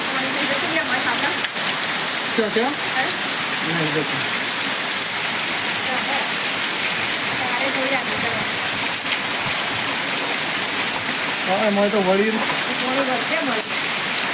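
A heavy downpour makes a constant loud rushing hiss while people talk over it now and then.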